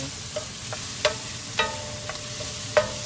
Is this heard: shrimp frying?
yes